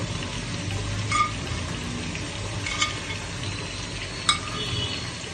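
Ginger garlic paste fries with chicken in a pan, a soft, continuous sizzle with three sharper scrapes or clinks as it is stirred, heard up close with no voices.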